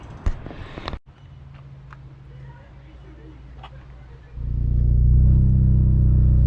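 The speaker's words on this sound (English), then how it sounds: "That's your fucking exhaust." A 10th gen Honda Civic Si with an aftermarket intercooler idles quietly after a sharp click, then the exhaust swells into a loud, sustained rev near the end; people talk over it.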